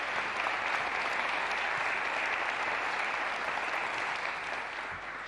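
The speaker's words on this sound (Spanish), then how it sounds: "Un enorme aplauso para ellas y para ellos." Sustained applause from an audience at an official agreement-signing ceremony on community violence prevention, dense and continuous clapping that holds steady and eases slightly near the end.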